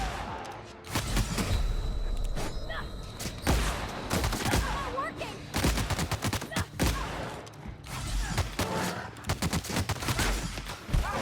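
Rapid bursts of gunfire in The Outer Worlds, loud and close, with volleys of shots firing in quick succession and short pauses between them, under occasional faint talk.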